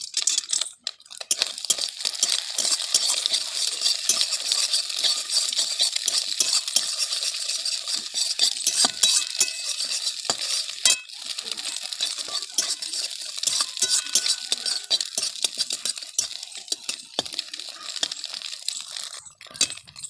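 Bhujia and a handful of peanuts are stirred and fried in a pan, with steady scraping, rattling and sizzling continuing close and fairly loud without pause.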